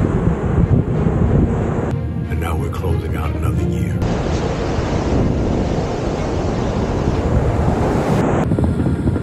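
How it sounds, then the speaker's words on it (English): Ocean waves washing onto the sand at Manhattan Beach, a loud continuous rushing surf with heavy wind buffeting the microphone and a voice briefly in the background. "Got the sand, got the waves"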